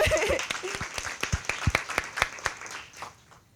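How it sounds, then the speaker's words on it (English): A sparse round of hand claps welcomes a speaker at a plenary on reproductive justice, with separate sharp claps ringing out over a few seconds and then fading. "can we give a brief welcome of introduction? Hand clap."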